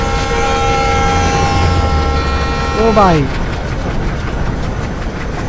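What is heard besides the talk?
oncoming WDM 3D train passing in Train Simulator video game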